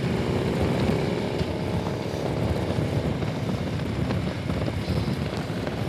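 A motorcycle is ridden at about 50 mph, its engine droning steadily beneath heavy buffeting wind noise, continuous and close.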